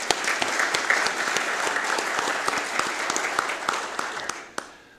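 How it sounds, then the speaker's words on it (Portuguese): An audience at an institutional tunnel engineering event claps, dense sustained applause with sharp individual claps, close and loud, tapering off at the end. "eu peço uma salva de palmas."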